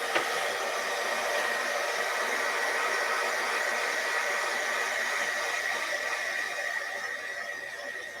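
A hair dryer blows steadily up close to dry paint on a painting, a constant loud whoosh that eases slightly toward the end, with no speech.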